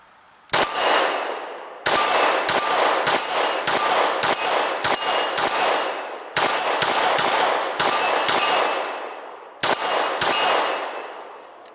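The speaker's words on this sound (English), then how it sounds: "we have our steel gong. We're just going to shoot this with the Glock 23" Rounds from a Glock 23 pistol strike a steel gong 20 yards away in rapid fire, producing a string of about a dozen loud, ringing metallic clangs in quick, slightly uneven bursts, each hit ringing briefly before the next.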